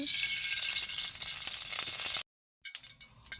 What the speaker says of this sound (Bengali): কড়াইতে তেল দিয়ে দিচ্ছি